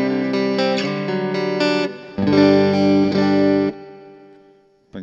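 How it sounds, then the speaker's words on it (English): Electric guitar chords played through a CoolMusic BP-Mini battery-powered amplifier with spring reverb, notes ringing then trailing off with a springy decay, close and clear. "The kind of springiness in the reverb there."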